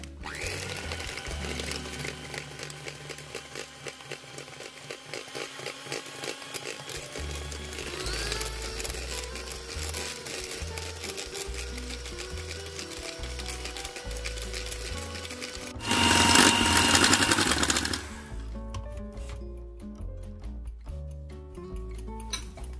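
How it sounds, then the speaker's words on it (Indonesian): An electric mixer whirs continuously through carrot cake batter with a rattling mechanical drone, rising into a louder, harsher whine for a couple of seconds before settling back. "Kemudian kita mixer."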